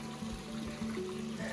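Water from a mountain stream trickles and flows on the Permadi trail of Mount Slamet, a steady, faint babble with no talk.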